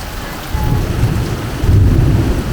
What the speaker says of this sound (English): That bloody thunder, listen to it.